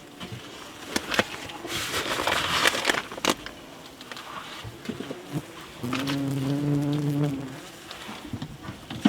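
Wasps buzz around an attic nest during its removal, a droning hum that swells and thickens near the end amid scattered knocks and scraping of comb being cleared.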